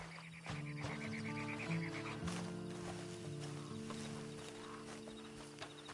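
Faint horse whinny and snorting from a mount in the open-world western game Red Dead Online, set against a steady game ambience and music bed.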